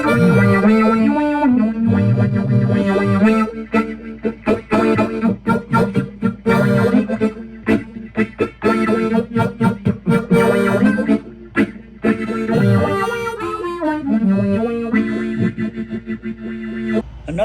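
Electric guitar through a Baby Quasar sub-decay wah effect pedal, playing a continuous rhythm part with sweeping filtered tones and choppy strummed accents, loud and close with no talking over it.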